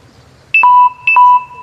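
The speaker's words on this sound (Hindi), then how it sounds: "अरे अरे अरे बंद हो गया मोबाइल।" A mobile phone with a dead battery shutting down gives two clear electronic chime tones, each a quick higher note dropping to a sustained lower one, loud and close with no talk over them.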